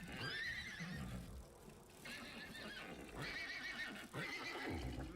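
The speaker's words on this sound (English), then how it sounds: "Oh, the horses." Horses in a fantasy role-playing game whinny in three long, loud neighs separated by short gaps, with hoof clip-clops underneath.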